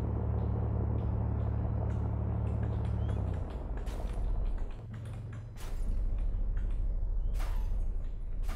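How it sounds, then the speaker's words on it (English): A car in the ARMA 2 video game drives with a steady low engine rumble that drops off briefly partway through, then returns, while sharp clicks and knocks break in. "I can hear a car"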